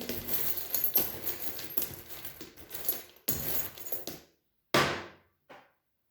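Small metal charms or trinkets are handled and dropped, giving close clinks, jingles and rattles in irregular bursts before trailing off into quiet.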